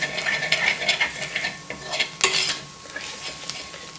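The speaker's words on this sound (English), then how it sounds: "leave this to saute this well so that the raw smell of the coriander powder leaves" Coriander powder sautéing in a pan for a green peas curry, with a steady soft sizzle under repeated scraping and stirring strokes of a spoon against the pan, close and moderately loud.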